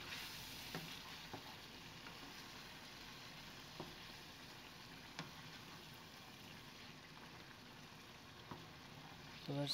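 Onion and tomato masala paste being stirred into chicken curry in a pan, giving a soft, steady sizzle with faint scraping and a few light clicks of the spoon throughout, no voices.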